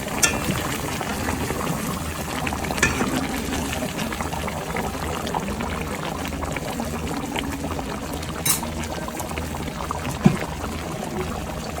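Juice pours into a pot of simmering oxtail gumbo, a continuous liquid gurgle over a bubbling simmer, close and fairly steady, with a couple of small clinks.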